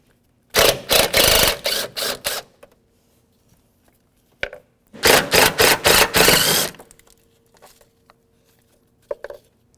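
A ratchet with a 13 mm socket loosening battery tray bolts on a 2008-2012 Jeep Liberty, two close bursts of rapid clicking strokes with quiet gaps and a faint click near the end.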